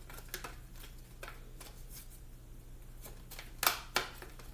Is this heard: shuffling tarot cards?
yes